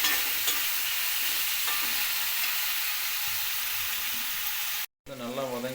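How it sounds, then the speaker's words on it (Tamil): Eggplant sautéing in a pan for a tamarind curry, a loud continuous sizzle with faint stirring scrapes, close up, cutting off near the end as a voice begins speaking. "இதையும் போட்டு நல்லா வதக்கி எடுக்கணும்."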